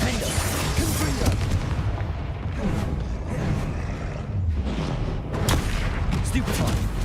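Confringo spell combat in the Hogwarts Legacy game, with repeated booming blasts and crackling impacts layered over a continuous loud rumble of battle effects, dense and close with a voice mixed in.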